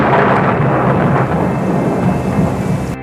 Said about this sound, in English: Then suddenly, thunder roared.